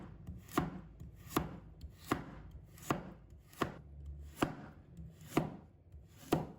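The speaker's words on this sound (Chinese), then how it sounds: "再准备适量的胡萝卜，把它切成片。" A knife slices carrot on a cutting board in about ten evenly spaced, crisp chops roughly every two-thirds of a second, close and clear with no voices.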